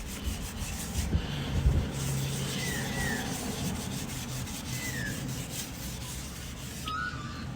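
Steady rubbing and scrubbing of an alloy bead lock rim being cleaned with molasses, a continuous close brushing texture with faint squeaks running throughout, no talk.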